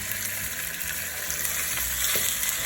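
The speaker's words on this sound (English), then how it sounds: "Once your pot is hot, now we are going to put our oxtail in." Oxtail searing in a hot pot, a dense, loud, continuous sizzle and crackle heard up close with a few small bumps of movement, no voices.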